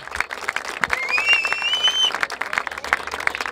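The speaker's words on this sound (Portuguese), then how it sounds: "Palmas pra essa batalha!" Applause from the crowd at a semifinal rap battle in Barueri, São Paulo: dense, steady clapping mixed with crowd noise and a whistle, continuous and moderately loud throughout.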